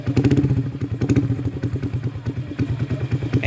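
A motorcycle fitted with a cheap aftermarket CLD exhaust revs close by with a loud, choppy, pulsing burble. The rapid throttle blips keep the engine note uneven and throbbing.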